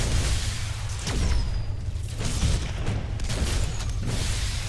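Turret gunfire from space combat in the game Stellar Tactics, a dense continuous barrage of booming shots and bursts with a few thin zapping streaks, loud and steady throughout with no talk.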